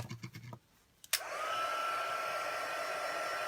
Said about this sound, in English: I'm going to just hit this just for a sec with the heat tool.